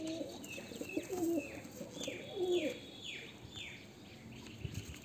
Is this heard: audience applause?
no